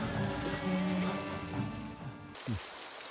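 Rain falls in Project Zomboid, a steady hiss of wet weather across the whole stretch with a few faint tonal game sounds mixed in, ending in a brief low swooping effect.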